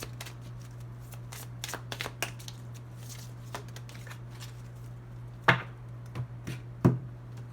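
Tarot-style angel therapy cards are shuffled by hand, making soft, irregular riffling and slapping sounds that are fairly faint, over a steady low hum, with no one speaking.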